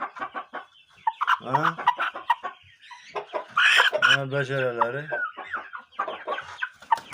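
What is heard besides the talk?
Shamo rooster clucking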